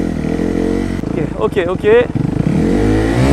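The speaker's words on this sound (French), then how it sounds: "Je passe la première. Ok. Eh, je suis pas venu ici pour souffrir, ok? Première, accélérateur." A motorcycle in first gear pulls away and accelerates, its steady engine drone building near and loud beneath a man's brief speech.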